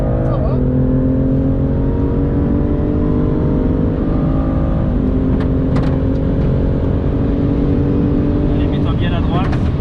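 BMW M2 CS accelerating at full throttle on the Castellet race track, a loud sustained engine roar heard from inside the car, pitch climbing and dropping through gear changes, with brief voices over it.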